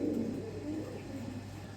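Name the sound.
pigeons cooing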